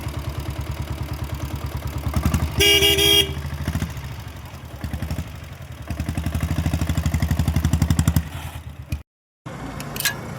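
A diesel Royal Enfield Bullet motorcycle idles close by with a steady low thumping beat, broken by a short horn blast and a brief dropout near the end.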